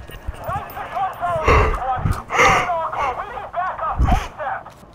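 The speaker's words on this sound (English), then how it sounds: "So sorry for those yawns." Someone lets out several drawn-out, voiced yawns close to the microphone, breathy bursts with audible vocal tone spread across a few seconds.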